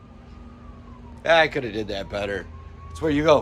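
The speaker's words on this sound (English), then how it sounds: "I don't know if you can hear the sirens in the background." A faint siren wails in the distance, its tone slowly falling, while a person talks close by over it.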